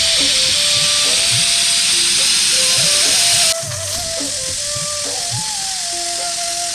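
A pressure cooker hisses loudly and steadily with steam while mutton curry cooks, the harsh whistle-like rush dropping in intensity midway but continuing close by.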